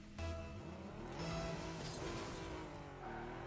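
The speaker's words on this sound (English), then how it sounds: "Engine sounds pretty rad, honestly. I dig it in-game." The engine of the Cyclone car in a video game drones steadily and shifts pitch as it revs, with a brief lull and pickup near the end, sounding close and continuous.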